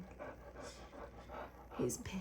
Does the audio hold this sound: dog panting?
yes